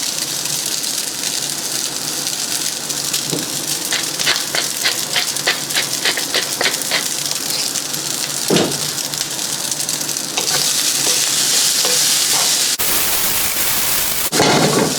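Rice being stir-fried in a pan for beef tapa with salt and pepper: a loud continuous sizzle with a run of quick rhythmic spatula taps midway, then harsher roaring frying toward the end.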